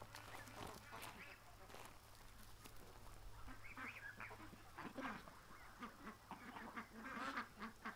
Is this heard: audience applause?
no